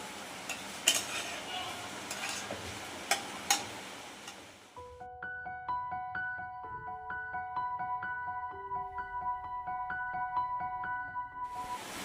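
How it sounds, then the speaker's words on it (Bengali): Chhana is stirred and mashed in a wok, with a spoon scraping and knocking against the pan in uneven strokes, then a quieter stretch of light clinks and taps, no speech. "এবার কড়াইয়ে ছানাটাকে একটু আমরা ভালো করে নাড়িয়ে নেব"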